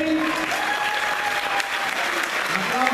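Dense, sustained applause from an audience at a school orchestra concert, loud and continuous, with faint sustained instrument tones underneath.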